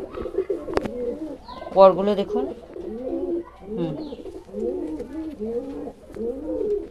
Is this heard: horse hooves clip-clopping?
no